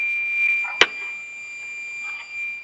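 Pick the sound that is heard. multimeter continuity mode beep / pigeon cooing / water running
multimeter continuity mode beep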